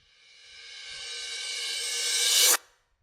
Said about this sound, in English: This one is a reverse crash.